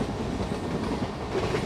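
The Kakatiya Express runs in the Trainz railway game at over 80, giving a dense, steady rolling rumble with faint rhythmic clatter from the wheels and no speech.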